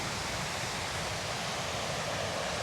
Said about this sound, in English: Just here have the noise from the waves, which is relaxing.